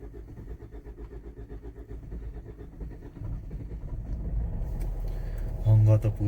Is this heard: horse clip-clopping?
no